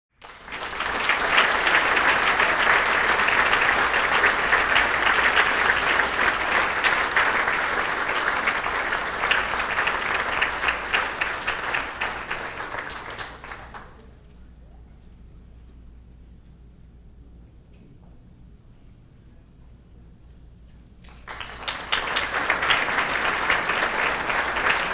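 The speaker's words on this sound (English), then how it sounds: "round of applause for the individual athletes, now members of the Woburn Hall of Fame" Dense applause from the audience at the 2019 Woburn Hall of Fame ceremony honoring athlete inductees. It is steady and full for about fourteen seconds, drops to near quiet, then swells back up strongly.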